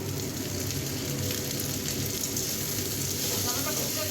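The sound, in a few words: chopped tomato added to sizzling pan with fried raisins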